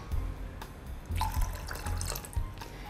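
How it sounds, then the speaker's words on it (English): Soda water poured into a mojito glass: a close, steady splashing pour with a few brighter fizzy bursts, heard alone without speech. "and 60 ml of soda water."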